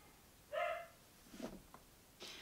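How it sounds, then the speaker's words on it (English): A dog gives a single short, faint bark in a quiet room, followed by a couple of soft knocks and muffled sounds. "my dog's barking"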